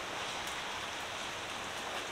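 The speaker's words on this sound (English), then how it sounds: "there's the rain I was talking about." Steady, dense rain falls close by with a constant even hiss and scattered drop hits throughout, with no voices over it.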